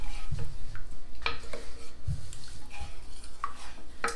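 Lasagna soup ingredients being stirred together in a crockpot, with soft scraping and occasional clinks of a utensil against the pot, faint and intermittent.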